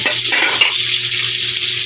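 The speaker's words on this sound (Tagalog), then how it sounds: "prito natin ng saglit. Hindi na siya masyadong prito." Fish fries and is stirred in a pan for sinigang sa miso, a loud steady sizzle with a scraping stir near the start, close up and without talk.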